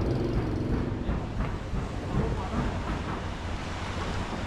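Ocean waves wash against a stilted jetty with fishing boats in Penang, Malaysia, a continuous rough surf rumble mixed with gusty wind noise across the microphone.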